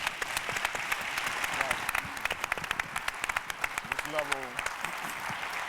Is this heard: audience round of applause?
yes